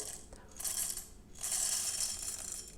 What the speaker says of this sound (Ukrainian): Зараз змилимо каву.